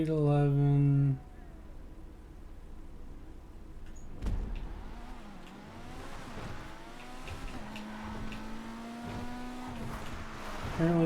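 The Pfister 811 supercar's engine in a video game revs and shifts through rising and falling pitch sweeps with tire noise, under a talking voice, after a loud opening burst.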